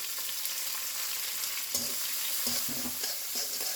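Onion and green chili fry over a high flame in a wok for egg chicken chow mein, giving a constant bright hiss broken by a handful of low stirring knocks.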